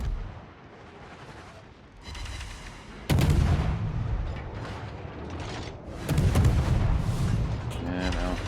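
Naval guns on the destroyer HSF Harekaze fire in heavy booming bursts during a warship video game battle, with a commentator talking over the shots.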